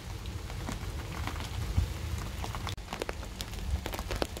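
Dense, steady pattering of fine hail striking a surface, with scattered sharper ticks throughout; continuous and fairly close, no voices.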